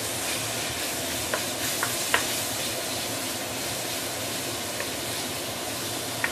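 Daojiu rice wine poured into a hot pan while cooking Nyonya braised chicken, with a dense, even, loud sizzling hiss sustained throughout and a few faint clicks of utensils, without speech.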